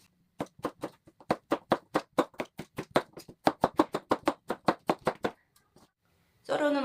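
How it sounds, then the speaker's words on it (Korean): A knife chops a cucumber into thick chunks on a cutting board, giving a steady run of sharp, close taps at a brisk rhythm. The chopping stops near the end and a short burst of other noise follows. "반을 쭉 잘라서 큼직큼직하게 썰어주겠습니다"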